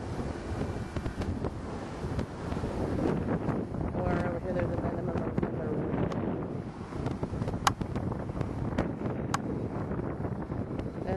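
Wind buffets an outdoor microphone steadily and loudly through the whole stretch, a constant low rumble with occasional gusts.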